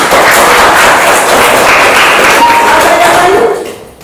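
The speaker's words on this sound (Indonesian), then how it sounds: "terima kasih tepuk tangan untuk dia dulu" Loud, dense applause from a classroom of students for a classmate, a continuous rush of clapping that holds steady before fading out at the end.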